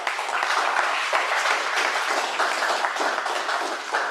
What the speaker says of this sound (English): can we have a round of applause for our evaluators and speakers?